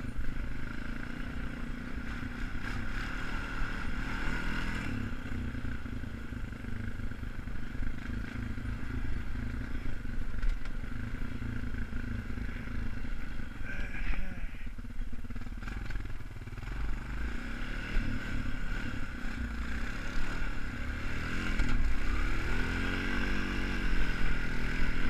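An ATV engine working steadily in second gear while climbing a snowy hill on a ride to the Potato Patch, a continuous moderate drone that rises slightly toward the end, with no talking.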